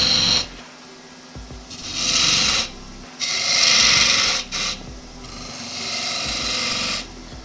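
An ash wood vase is turned on a lathe, a gouge cutting in several rasping, scraping passes separated by short pauses, close and fairly loud, no talking.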